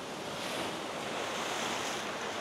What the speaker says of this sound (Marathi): एका बाजूला समुद्र